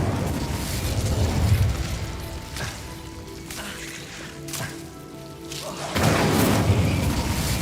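An Incendio fire spell cast in Hogwarts Legacy bursts with a loud whooshing boom and crackle, fading to a quieter hiss before a second fiery blast flares up near the end.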